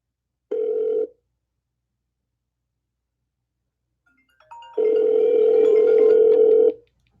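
Phone call ringing, placed through a voice assistant: a short ring tone burst, a pause, then a longer steady ring tone with harmonics, loud and close, no talking.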